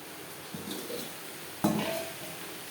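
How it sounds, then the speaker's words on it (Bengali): Data shak greens and onion are stirred in a pan over a low-to-medium gas flame, with two scraping stirs of utensil against pan over a soft, steady sizzle. "শাক বেশ ভালো করে মিক্স করে দেবো"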